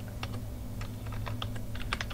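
Rapid keystrokes on a computer keyboard as a terminal command is entered on Ubuntu, a quick irregular burst of close, light clicks with no voices.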